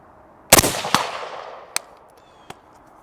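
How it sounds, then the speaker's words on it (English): Rifle fire from a rifle fitted with a Zerotech Vengeance 1-8x LPVO scope: one loud close shot with a long echoing tail, then fainter sharp cracks and distant impacts. "last 2 shots of the day."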